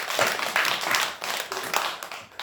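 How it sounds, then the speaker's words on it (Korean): An audience at a Buddhist temple dharma talk claps in loose, uneven waves of hand claps, fairly near and steady for a couple of seconds. "박수 쳐라"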